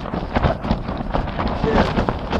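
Wind gusts buffet the microphone at a wild camp in June, a rough rumbling rush that swells and eases in uneven bursts, fairly loud and close, with no talk.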